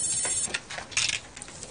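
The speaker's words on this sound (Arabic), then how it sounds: "محدش بيرد على التليفون ليه؟" An office telephone rings in an Egyptian drama scene, a bright electronic trill repeating in short bursts with a steady rhythm, close and fairly loud, with no speech over it.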